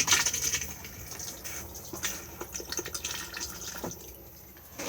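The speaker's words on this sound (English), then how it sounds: "push the flush just on the top just here." A cassette toilet flush in a Swift Suntor 630G motorhome, giving a faint, close trickle and hiss of running water with small drips and clicks, steady for several seconds with no one talking.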